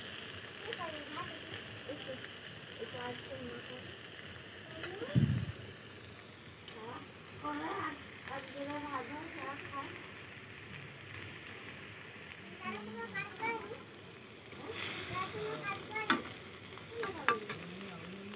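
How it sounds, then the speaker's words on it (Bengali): Chickpeas and potato frying in a pan, a soft steady sizzle with stirring scrapes as a person talks over it. "আর সকালে আমি এখন মুড়ি খাবার জন্য আলু দিয়ে ছোলা নাড়া বানাচ্ছি"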